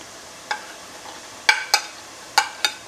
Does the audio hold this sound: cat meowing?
no